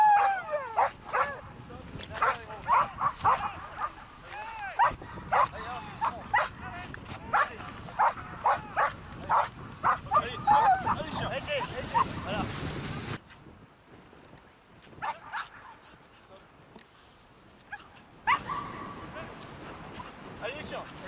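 A dog barks, yips and whimpers in rapid excited bursts during an outdoor survival course, with a voice calling out over it and wind noise in the background.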